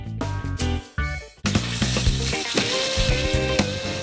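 Aceh noodles stir-fried in a pan sizzle loudly and steadily, with a busy scraping stir and clanks over the frying hiss, after a brief uneven start.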